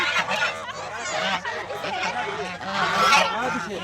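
Domestic geese honk loudly and repeatedly at a brick kiln, a raucous overlapping chorus close by, with people talking in the background.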